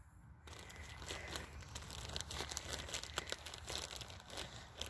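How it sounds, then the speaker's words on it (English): Paper mail crinkles and rustles close by as it is pushed into a sweatshirt pocket, with quiet, irregular crunchy bursts over a few seconds. "Sorry about the crinkling. I'm trying to get a piece of mail in my sweatshirt pocket."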